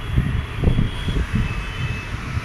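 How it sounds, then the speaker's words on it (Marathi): An airplane passes near an airport, heard as a steady low engine rumble with faint high whine, continuous and moderately close throughout. "त्या एअरपोर्टला थांबतात तिकडे उतरतात विमान"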